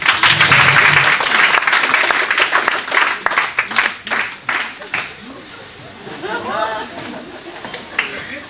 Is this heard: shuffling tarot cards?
no